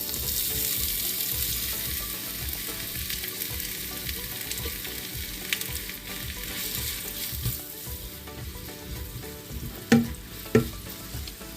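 Two finely chopped onions frying in ghee inside a heavy pot for Thalassery chicken biryani, giving a steady close sizzle with soft stirring scrapes and a couple of louder knocks near the end.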